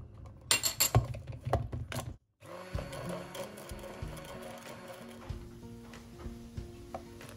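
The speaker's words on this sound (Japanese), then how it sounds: "お塩を一つまみ入れて、ブレンダーにかけていきます。" A blender mixes soy milk whipped cream with a pinch of salt, starting with a few choppy pulses, then running as a steady droning motor with small clinks, close and moderately quiet, with no talking.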